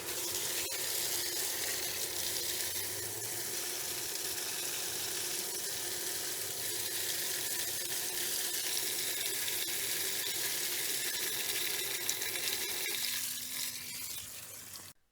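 Dirty water gushing steadily from a Bestway Flowclear sand filter pump during backwash, a loud continuous rushing hiss that thins out near the end.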